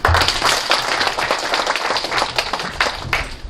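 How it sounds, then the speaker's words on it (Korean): Audience applause at a Mapo District Council monitoring report meeting and forum, a steady burst of dense clapping from a seated crowd that fills the room without pause, loud and continuous throughout. "박수 부탁드리겠습니다"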